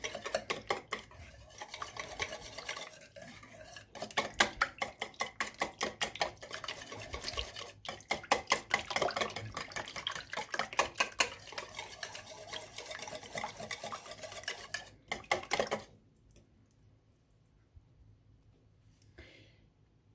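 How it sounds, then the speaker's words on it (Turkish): Pastry dough ingredients stirred in a bowl with a utensil, a busy run of scraping, clinking strokes against the bowl, fairly close and steady, ending in near quiet for the last few seconds. "Şöyle güzelce karıştıralım."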